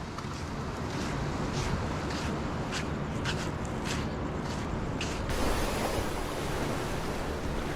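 Ocean waves washing onto an island shore at very low tide, a steady broadband wash with wind buffeting the microphone and no talking.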